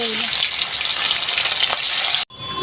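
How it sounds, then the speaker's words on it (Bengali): Fish pieces fry in hot oil for a Bengali gurjaoli fish dish, a loud steady crackling sizzle that runs nearly throughout before cutting off abruptly near the end. "তেল গরম হয়ে গেছে, আমি মাছগুলো দিয়ে দেব।"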